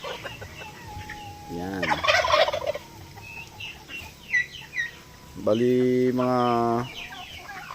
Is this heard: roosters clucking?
yes